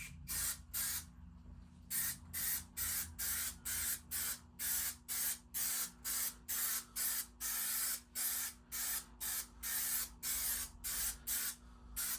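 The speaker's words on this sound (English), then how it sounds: "And then we are going to spray just a little bit of this." Aerosol spray paint hisses onto a cheetah-print rockabilly vest in short, regular bursts, roughly twenty evenly spaced sprays close by, with a low steady hum underneath and no talking.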